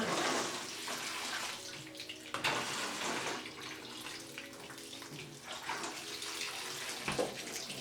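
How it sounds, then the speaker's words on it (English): Water poured from above into the soil of a large potted monstera deliciosa houseplant during repotting, a steady splashing, trickling pour close by with brief surges, no talking. "Okay, I'm gonna add some more water."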